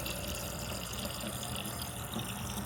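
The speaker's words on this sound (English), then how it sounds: "I forgot I need to fill up my water bottle." A gym water bottle being filled from a tap, with a steady, close rush of running water that continues without pause and with no talking.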